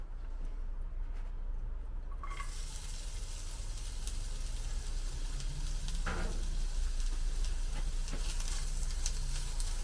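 Chopped onion sautéing in warm olive oil in a cast iron pan gives a steady, close sizzle that starts after a quiet opening couple of seconds and holds evenly to the end.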